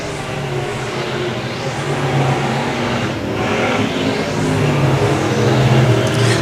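A dirt track race car at Central Missouri Speedway roars down the front stretch, its engine a loud, steady drone that swells as it nears and then passes, with no voices over it.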